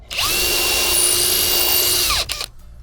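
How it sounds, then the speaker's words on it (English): A power drill bores a pilot hole into timber for a reptile enclosure, one close, loud, steady whine that winds up, holds for about two seconds and winds down. "because you're drilling into, screwing into timber, which is never easy, just drill a couple pilot holes"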